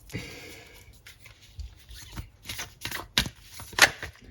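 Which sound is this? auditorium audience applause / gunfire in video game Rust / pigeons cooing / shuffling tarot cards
shuffling tarot cards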